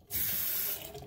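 Water runs from the tap of a newly installed bathroom sink in a renovated basement, a sudden close hiss of flow that holds steady and then eases slightly.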